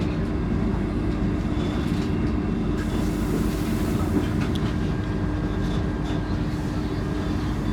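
A Vande Bharat Express train rolls into the Alappuzha station platform, a loud, steady rumble of wheels and carriages with faint rhythmic clatter throughout.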